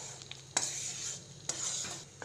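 Avarai lentil kulambu sprinkled with coriander is stirred in a pot, giving faint, close scrapes and light metallic clinks over a low, quiet simmer hiss.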